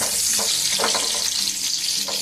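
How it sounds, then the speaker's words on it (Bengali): Cashews and raisins fry in hot oil in a pan, giving a steady, close sizzle with a few soft stirring scrapes throughout. "এই কাজু কিশমিশগুলো একটু ভেজে আমি তুলে দেবো"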